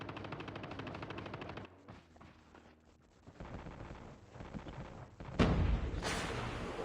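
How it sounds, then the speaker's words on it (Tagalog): Gunfire from the Call of Duty video game rattles in rapid automatic bursts, steady and dense at first. After a brief lull it comes back with a louder, heavier blast toward the end. "Dami nagbabarilan sa akin."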